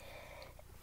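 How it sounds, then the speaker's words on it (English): A single sharp, loud burst at the very end, a sudden cough or sneeze after near silence. "I don't know if that was a cough or a sneeze, but it was something."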